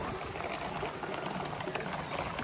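Liquid pours steadily from a tank overflow on a property where a Monaro's old 383 engine is being stripped, a close, continuous rushing gurgle that runs unbroken with no voices over it.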